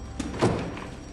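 A door is opened into an office in the NASA Space Task Group, giving a single dull thunk over a steady wash of room noise.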